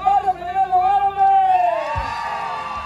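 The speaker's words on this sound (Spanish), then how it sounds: "¡El aplauso para el chaparro, primero lugar, hombre!" Cheers and whoops swell from a crowd at a jaripeo-baile in a plaza in La Calzada, Ciudad del Maíz, San Luis Potosí, for a first-place contestant, rising briefly beneath and after an announcer's loud shouting.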